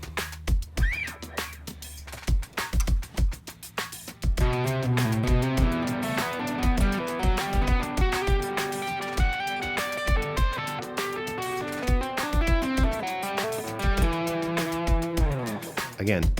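Electric guitar plays a fast legato triplet lick with slurred, rapidly shifting notes over a punchy drum beat; a few sparse drum hits and scattered string noises come first, then the loop and guitar run continuously to the end.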